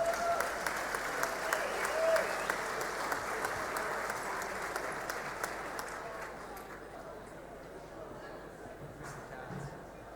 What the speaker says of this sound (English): How about another round of applause for their efforts?